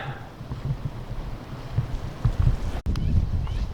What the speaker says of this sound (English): Yeah, you can tell it's windy.